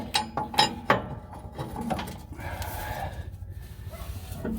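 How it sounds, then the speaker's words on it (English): Box-end wrench loosening a shock absorber bolt on a 2004 Itasca Suncruiser 38G Class A RV: a few sharp metallic clicks and ratchety knocks up close at the start, then softer scraping and handling noises with faint movement. "Use my boxed in wrench."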